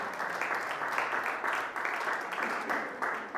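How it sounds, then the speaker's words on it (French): A church congregation at a Sunday service claps in unison with a brisk, rhythmic pulse, a short burst of fairly faint, even applause. "Est-ce qu'on peut applaudir le Seigneur?"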